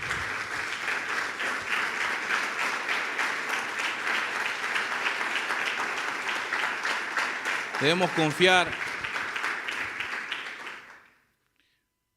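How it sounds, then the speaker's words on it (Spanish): Congregation applause during a church sermon. A steady roar of many hands clapping lasts about eleven seconds, then stops abruptly. A voice briefly speaks over it near the end. "Dale un fuerte aplauso al Señor"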